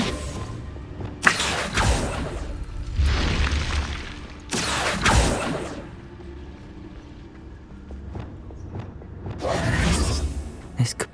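In the Hogwarts Legacy video game, the Confringo fire spell goes off in several booming bursts with whooshing blasts spaced a few seconds apart. Each blast swells loud and rumbling, then fades into low game ambience between them.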